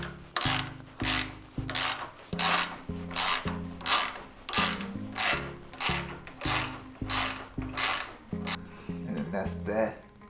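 A T30 screw holding a cable on the handlebars of a 2005 Harley-Davidson being loosened: a close, rapid series of rhythmic ratcheting clicks, about a dozen bursts over ten seconds.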